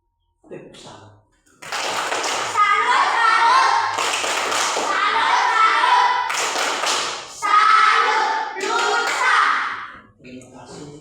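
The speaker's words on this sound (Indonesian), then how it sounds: "Tepuk tangan." Children clap their hands in a brief burst amid a lively room, with a loud chorus of young voices calling out and speaking over the clapping throughout.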